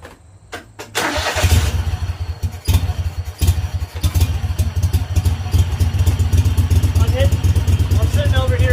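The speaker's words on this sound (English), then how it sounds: "let's crank her up and see how she sounds" A free garden tractor, modified as an off-road mower and fitted with a new muffler, cranks and catches after a second, then settles into a loud, throbbing, clattery idle close by, with a little speech at the start.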